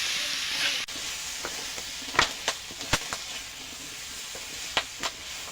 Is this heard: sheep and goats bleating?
no